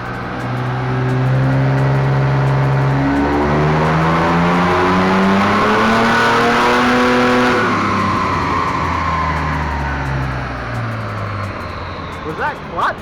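A Nissan Skyline R31 launches hard on nitrous, its engine roaring loudly and climbing through revs in rising sweeps, then cutting off abruptly as the noise fades. Tires chirp near the end.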